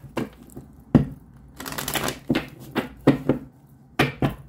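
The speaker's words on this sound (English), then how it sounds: "One more shuffle" Tarot cards are shuffled close up in irregular bursts of riffling and soft slaps, with quiet gaps between.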